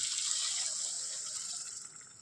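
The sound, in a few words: hot water being poured into a cooking pot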